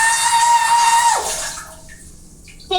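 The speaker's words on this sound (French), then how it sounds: "Le bruit du robinet." Water running from a household tap, a steady close hiss that cuts off partway through, leaving near silence before a brief faint clatter at the end.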